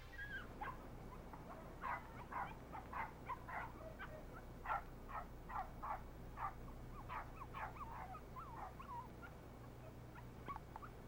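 A dog whimpering and yelping in a quick run of short, high cries, faint and somewhat distant over a low steady background hum.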